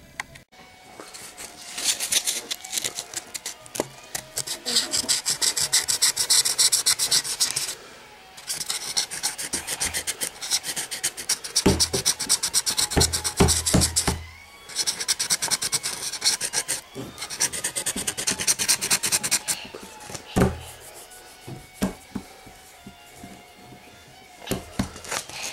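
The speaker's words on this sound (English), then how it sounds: "I'll take a little bit of fine sandpaper and go over that little edge right there." Fine sandpaper is rubbed over the edge of a Yamaha RBX260 bass guitar body in repeated close, rasping bursts of strokes, broken by short pauses, with no talking.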